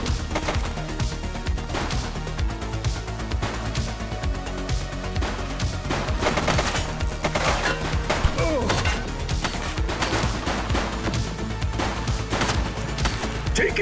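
Gunfire in the police game The Precinct: repeated sharp shots and bursts crackle through a dense, busy mix of action sounds and music, fairly constant across the stretch.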